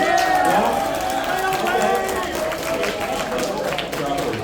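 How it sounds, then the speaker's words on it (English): Convention panel audience giving a quick burst of applause, a dense wash of many hands clapping with crowd noise, fairly close and steady, with voices mixed in. "just give us a quick applause"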